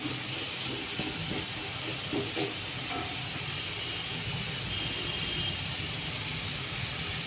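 Food fries in a pan at home, giving a steady, loud broadband sizzle and hiss that runs unbroken throughout, with a few faint clinks and no talking.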